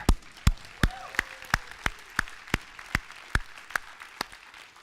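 A crowd clapping together in a steady, rhythmic beat, roughly two to three claps per second, with a faint murmur underneath.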